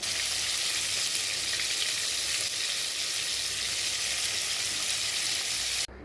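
Tomatoes fry in a covered pan, making a loud, dense, continuous sizzle up close that holds steady for several seconds before dropping off suddenly at the end, with no voices.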